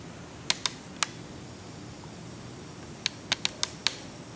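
Sharp scissor snips cutting the fabric corner of a napkin beside a sewn seam, two or three crisp clicks early on and then a quick run of five more, close up against a quiet room.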